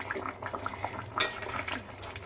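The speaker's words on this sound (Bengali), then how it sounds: "দিয়ে নিয়ে খুব ভালো করে একবার নাড়াচাড়া দিয়ে নেব" A spoon stirs four green chillies and a little ghee into a pan of doi potol curry (pointed gourd in yogurt), making soft scrapes and clinks against the metal with one sharper knock midway, close up.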